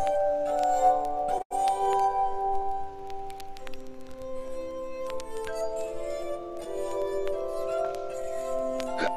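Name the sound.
glass clinking on glass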